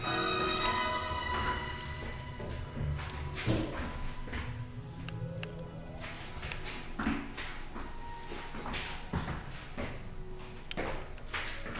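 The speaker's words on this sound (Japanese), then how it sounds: "ドアが閉まります。" Elevator doors at Aeon Mall Hiroshima Fuchu's central L.A.S lift slide shut with a series of soft clunks and rattles over a steady mechanical hum inside the car.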